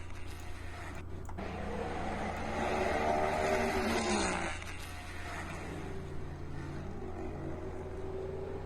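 A cup race car engine in a video game drones steadily for the whole stretch, swelling louder in the middle as it revs up and then settling back to an even, sustained roar with no talking.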